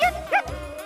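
A cartoon dog in the video game Puyo Puyo Tetris gives a couple of quick yips and a short whimper, close and clear.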